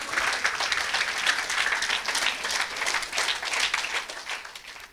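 A church congregation at a Sunday service applauds steadily for about five seconds, the dense clapping holding an even level throughout and fading slightly at the end.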